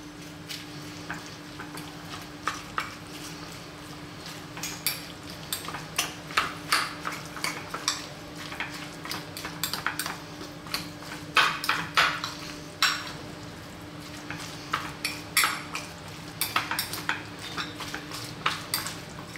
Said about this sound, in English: Let's give this a mix.